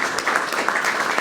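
Audience clapping at an LA creatives panel, a dense steady patter of many hands, moderately loud and close, with no voices on top.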